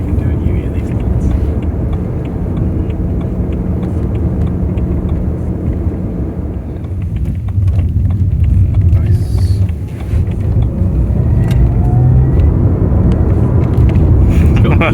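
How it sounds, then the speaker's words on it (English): BMW E91 touring car accelerating, its engine whine rising as a steady, continuous drone heard from inside the cabin, with people talking over it. "I like the whine when you're accelerating"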